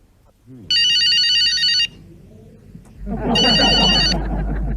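A telephone ringing for a call, two loud bursts of electronic trilling rings separated by a pause, with background noise and room sound between and under the second ring.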